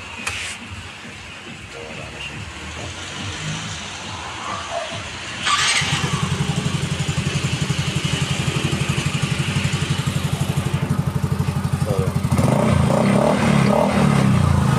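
A Yamaha Mio i 125 scooter engine, just repaired after a fault, cranks and catches, then idles in a steady, loud, rapid chug close by, revving up briefly near the end.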